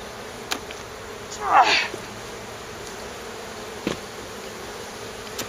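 Honeybees buzzing faintly around an open hive in the background, with one brief louder buzz as a bee passes close, amid a quiet outdoor hum.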